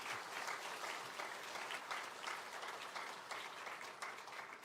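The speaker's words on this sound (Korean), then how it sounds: "큰 감사의 박수 하겠습니다." A church congregation gives warm applause in thanks during a Sunday service, soft and distant, with a continuous patter of many hands and no talking over it.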